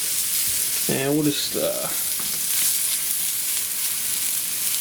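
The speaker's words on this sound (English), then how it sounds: "our sausage is cooking. I don't know if the camera is picking up the sizzling or not." Steady crackling sizzle of sausages frying in a pan, continuous throughout, with a brief spoken phrase near the start.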